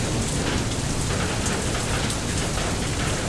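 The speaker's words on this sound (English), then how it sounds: "Come on, let's get through this storm." Steady heavy rain pours without a break in the stormy sailing game Far: Lonely Sails, a dense continuous wash with a low rumble of thunder beneath it, loud and even throughout and no voices.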